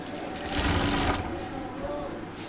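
A sewing machine stitches the side seam of a kameez sleeve with a fast continuous whirring hum, close and steady throughout, while a person talks over it.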